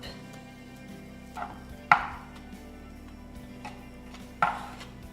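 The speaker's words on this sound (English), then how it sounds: "making sure you get all the way down to the bottom and scraping up" Metal scraper passing over buttercream icing on a layered cake, giving a few soft scrapes and light taps, two sharper ones near the middle and end, close and quiet over a faint room hum.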